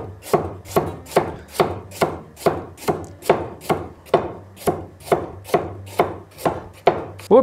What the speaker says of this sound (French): C'est pas facile de meubler une vidéo où on coupe des carottes.